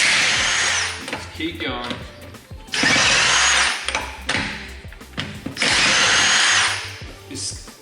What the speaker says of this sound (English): Rattle gun is obviously way overkill